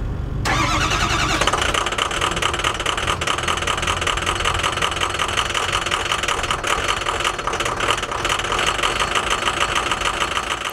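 A car engine with sticky, aging fuel injectors cranks briefly, then catches in a rough cold start and settles into a loud, continuous running rumble with uneven knocking.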